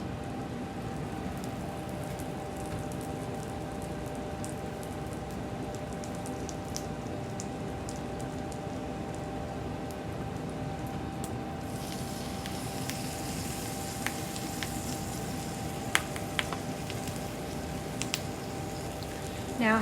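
Reuben sandwiches sizzle in melted butter in a pan over medium heat, a steady soft crackling hiss throughout, growing slightly brighter partway through, with a few small clicks and taps near the end.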